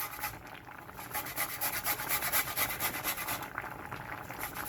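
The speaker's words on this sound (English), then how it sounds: "So I'm going to grate my ginger in the small part." Fresh ginger rasped against the small holes of a kitchen grater, giving quick, rhythmic scraping strokes in a steady back-and-forth pulse, close up and alone.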